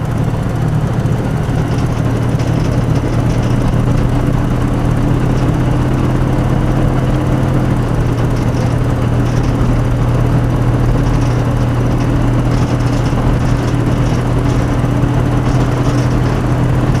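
An old Dodge engine running steadily, heard from a cabin microphone aimed at the engine compartment, a loud continuous droning rumble with a constant low hum and no changes in pace across the whole stretch.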